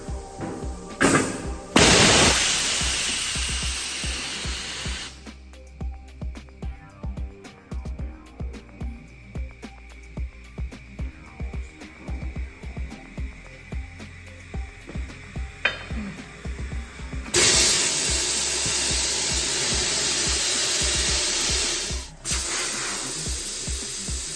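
Compressed air rushing through a tire chuck clamped straight onto the bare valve stem to seat the lubed beads of a wheel on a badly rusted old Ford: loud steady hissing bursts at the start and end, with irregular clanks and knocks in between.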